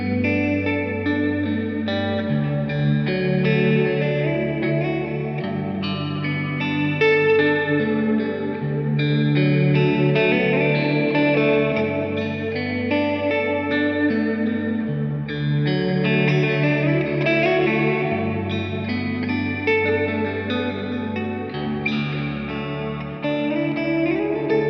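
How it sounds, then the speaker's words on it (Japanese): An electric guitar runs through two stacked reverb pedals on a pedalboard, giving a wide, washy, sustained wall of chords with long smeared tails, played continuously and loud throughout with no talking. "この2個を重ねたリバーブ同士の音っていうのを好んで使ってます"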